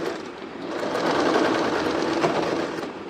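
Sewing machine stitching a long frill skirt with a zipper, running in a steady continuous whir at moderate volume with no talking.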